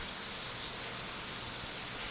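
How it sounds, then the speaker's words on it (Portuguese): Heavy rain falling outdoors, a dense, steady hiss of drops with no breaks, moderately loud and with no one speaking. "Aqui tá chovendo muito, pessoal."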